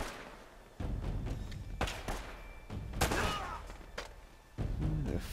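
Gunfire in Uncharted: Drake's Fortune arrives as scattered sharp shots and heavy thumps at irregular intervals, mid-distance, over a low rumbling game background.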